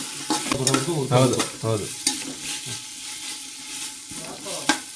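Oil and ginger frying in a pan for a village-style biryani cooked among friends at night, with stirring scrapes and a steady sizzle; a voice briefly speaks early on over the cooking.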